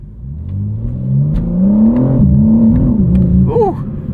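A 2025 BMW M4 CS with 8-speed automatic accelerates hard, its engine note rising in a loud, close drone with an upshift partway through and a voice briefly heard near the end.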